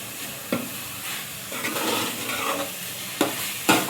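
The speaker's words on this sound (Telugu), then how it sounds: "ఇదిగోండి, ఈ విధంగా కలుపుకోవాలి." A spatula scrapes and stirs keema fry in a pan, with a few sharp scraping knocks over a soft, continuous sizzle, close up and with no talking.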